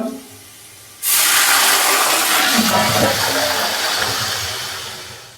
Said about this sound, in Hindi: तो अभी मैं इसके अंदर पानी का तड़का लगाऊंगा